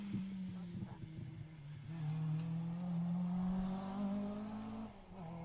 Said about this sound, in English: you can hear a proper gear change as well, can't you? I mean, the throttle. Downshift.